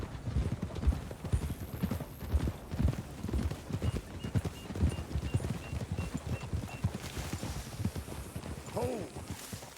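Horse hooves trot in a steady clip-clop rhythm through the Red Dead Redemption 2 game world, close and continuous, with a brief whinny near the end and someone talking over it.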